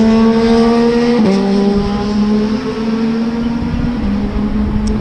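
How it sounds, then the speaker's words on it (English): Loud engine whine of motorcycles racing on a nearby track, holding a steady pitch with brief dips as gears shift, a continuous nearby roar with no talking. "Motorcycles."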